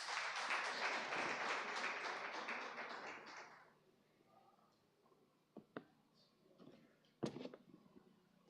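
An audience at a tech pitch competition and showcase in Uganda gives a round of applause, dense clapping for about three and a half seconds that fades out into near silence broken by a few scattered taps and knocks.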